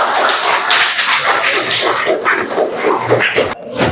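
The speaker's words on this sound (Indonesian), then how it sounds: "tepuk tangan buat kita semua" An audience in a university classroom gives a dense, loud round of applause that runs steadily for several seconds before cutting off near the end.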